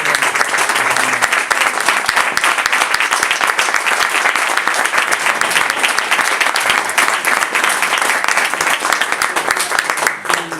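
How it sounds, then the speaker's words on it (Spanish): An audience at a union gathering claps in tribute to a late trade unionist, a dense, loud, continuous applause lasting around ten seconds with no one speaking over it. "Darle un pequeño aplauso que sirva de homenaje a todo su trabajo y a toda su labor"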